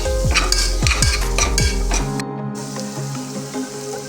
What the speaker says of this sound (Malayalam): ഒരു സവാള ചെറുതായിട്ട് അരിഞ്ഞ് ചേർത്ത് കൊടുക്കാം നന്നായി വഴറ്റി കൊടുക്കാം